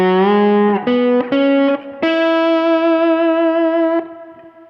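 Sustained slide guitar notes in open E tuning glide between pitches, a low line then a long held higher note that rings and fades, with a rich, slightly gritty effected tone.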